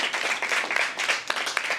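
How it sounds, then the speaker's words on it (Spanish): An audience at a communications conference session gives dense, continuous applause to welcome a speaker, a close wash of many hands clapping with no voices over it. "Un fuerte aplauso para recibirlo a Pedrito."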